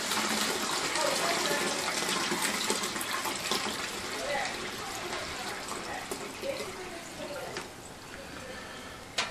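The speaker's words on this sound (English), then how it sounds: "now all I gotta do is top it up with water" Water pouring steadily into a ginger pale ale homebrew mix as it is topped up, a continuous broadband gush and splash that runs the whole time, fairly close, with faint voices underneath.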